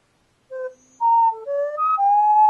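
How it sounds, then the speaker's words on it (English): A synthetic whistle effect from the Nintendo 3DS Sound app plays a short run of bright electronic tones that step up and down in pitch, ending on a sustained note, with no other sound. "That's some effed up whistle."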